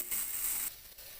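Spiced eggplant slices, fish-fry style, hit an oiled hot tawa with a bright steady sizzle that drops off partway, then crackles quietly on, close and alone.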